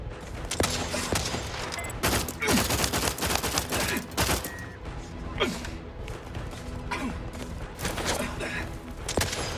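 Dense gunfire from the video game The Outer Worlds 2, with rapid, loud shots and bursts repeating throughout, mixed with grunts and gasps from the fight.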